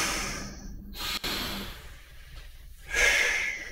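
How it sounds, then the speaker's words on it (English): Slow, deep breaths during a dumbbell arm workout with shoulder circles, with a long airy inhale and a louder exhale near the end, close up and with no talking. "Really slow down that breathing."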